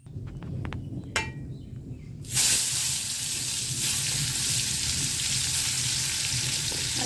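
Food frying in a pan in a home kitchen, a loud steady sizzle that starts abruptly after a few quieter clinks and continues without pause.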